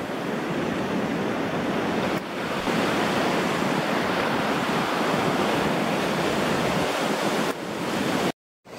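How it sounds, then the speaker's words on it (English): Ocean surf rolls steadily onto a South African beach as a dense, continuous wash of breaking waves with wind noise, loud and close, alone with no voices, cutting out briefly near the end. "Beach real."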